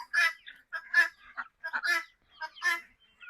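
Domestic turkeys and guinea fowl call nearby in a quick series of loud, harsh, nasal squawks and honks, about a dozen short bursts with brief gaps, and nothing else in the background.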